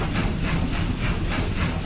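A steam locomotive in Train Simulator 22, a dense, steady rumble with hissing and faint rhythmic wheel clatter, close and continuous.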